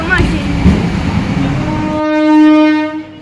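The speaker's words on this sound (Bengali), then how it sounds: "এই ট্রেনে আসছে তাই তো?" A train at a station during a village Rath Yatra festival: a rumbling approach gives way to a loud, sustained horn blast, with people talking nearby at the start.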